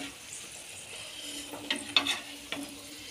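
Kachori deep-frying in hot oil gives a steady, soft sizzle, with a few sharper pops and spits near the middle.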